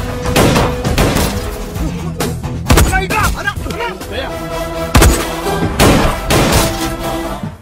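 Pistol gunfire during a fight scene in an Indian action film, with sharp bursts of shots and impacts standing out loudly over a dense soundtrack of music and effects.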